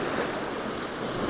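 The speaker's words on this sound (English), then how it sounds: "a boat went past, which causes some nice waves" Waves churned up by a passing boat wash steadily along the water in Norway at sunset, a continuous close surging rush without voices.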